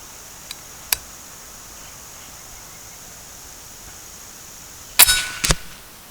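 A slug fired from a 457 Texan air rifle strikes the target, heard as a sharp loud crack followed by a quick second impact near the end, after a few faint ticks in a quiet outdoor background.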